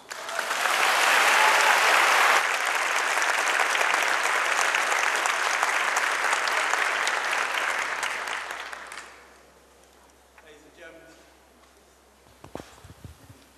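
An audience bursts into sustained applause welcoming Mr. Bridges, loud and dense for about nine seconds before fading out, followed by a quiet room with a few scattered thumps and rustles.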